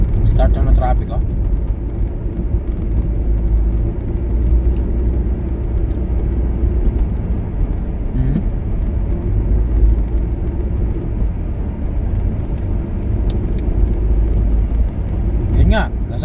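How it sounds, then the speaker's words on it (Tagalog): Steady low road rumble of traffic heard from inside a moving car in Canada, a continuous engine and tyre drone with faint passing vehicles, loud and unbroken throughout. "Start na ng traffic o."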